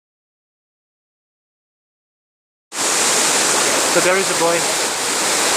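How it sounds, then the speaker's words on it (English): Spread Eagle Falls, a wide waterfall in Shillong, sends out a steady, loud rushing roar that starts abruptly after a few seconds of silence, while a person speaks briefly over it. "This is the widest one. Widest waterfall."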